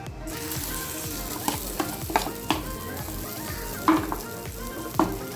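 Omelette batter sizzles in oil on a hot pan, a steady crackling fry with occasional sharper pops and utensil clinks as it spreads, close and moderately loud without talk.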